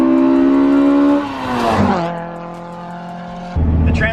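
A Honda CR-V on a stock exhaust with a MagnaFlow muffler, carrying an Accord fifth gear, drives past loud and close: a steady engine drone, a rising rev with tire noise, a quieter lower stretch, then a renewed surge.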